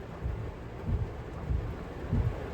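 Rain falling on a car, heard from inside the vehicle during a downpour in the Philippines: a steady hiss with soft low thumps and rumbles recurring every half second or so, no voices.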